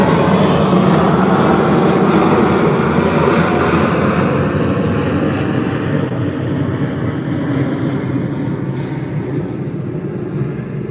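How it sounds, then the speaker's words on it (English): Aircraft flying low overhead near Cleveland on a busy travel day, giving a loud, steady engine roar that fills the whole stretch and slowly fades a little toward the end, with no talking. "And these planes, this is insane."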